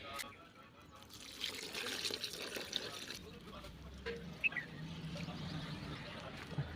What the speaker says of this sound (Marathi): चौथ्यामध्ये पुन्हा एकदा पाणी टाकूया